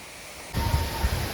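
Roaring spray and rushing water of Changey Falls close by, a loud broadband wash that bursts in abruptly after a quieter start and keeps surging unevenly.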